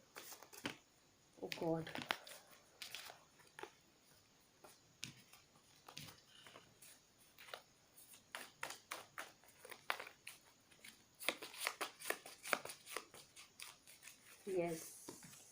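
Tarot cards are shuffled for a reading, giving off soft papery riffles and scattered taps that come and go around a voice speaking briefly, with one louder burst of rustling near the end.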